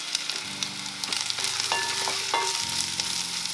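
Green chillies and capsicum fry with ginger garlic in a hot pan, a continuous close sizzle with scraping stirs, over a low steady hum and a few sustained tonal whines.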